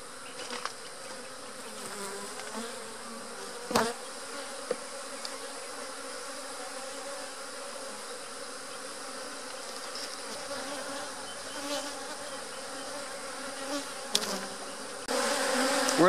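Honey bees buzzing around an open hive during a beekeeping hive split, a steady, close, low drone of many insects with occasional louder passes and faint handling knocks.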